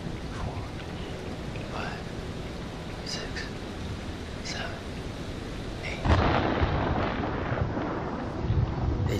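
Thunder from a storm in the video game Man of Medan, a broad low rumble with a louder crack and roll about two-thirds through, over steady rain-like noise and no speech.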